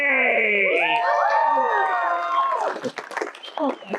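A show audience breaks into loud clapping, cheering and whooping after a sword swallowing act, the crowd noise swelling at first and then scattering into lighter, uneven applause and shouts.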